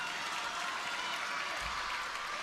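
Steady applause from a crowd at a table tennis championship final in London fills the scene, a dense even wash of clapping at moderate volume.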